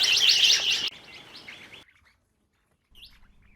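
A flock of Australian parrots calls loudly as it bursts into flight, dense overlapping chirps and squawks fading over a couple of seconds into quiet, followed by a few faint, distant calls.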